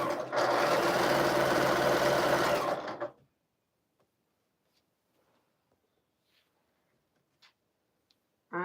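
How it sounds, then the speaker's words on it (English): A sewing machine stitches fabric scraps in one close, loud, continuous burst for about three seconds, then stops, leaving near silence with a few faint ticks and a brief noise at the very end. "just sewing up some scraps"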